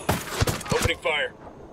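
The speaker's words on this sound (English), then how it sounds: "Opening fire" Several sharp gunshots in the Ghost Recon Wildlands video game, Bolivian setting, fired in a quick uneven cluster, loud and close, followed by a short mechanical rattle.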